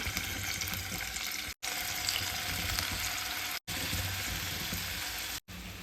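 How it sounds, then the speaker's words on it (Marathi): Chicken pieces frying in oil in a pan for creamy Afghani chicken, a steady broadband sizzle with faint watery crackle, running continuously near and loud, broken by a few brief silent cuts. "आता एका पॅनमध्ये तेल घालायचं आणि त्यामध्ये चिकनचे पीस फ्राय होण्यासाठी ठेवायचे"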